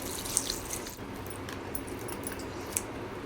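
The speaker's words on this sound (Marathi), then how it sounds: "पाणी टाकून स्वच्छ धुवून घेऊया।" Soya chunks washed with water in a vessel, a steady close splashing and sloshing with a couple of sharp clinks.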